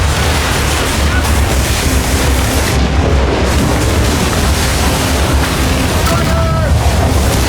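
Ship cannons firing during a naval battle in Assassin's Creed Rogue, heavy booms blended into constant roaring wind and crashing sea, loud and continuous throughout with dense low rumble.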